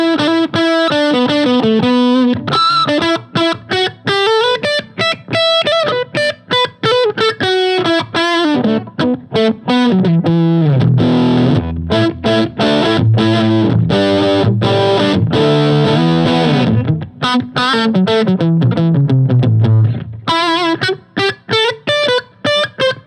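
Electric guitar through a TC Electronic Mojo Mojo overdrive pedal with the voice switch on, loud punchy distorted chords and riffs with tight low end, played alone in bursts with brief gaps and no talking.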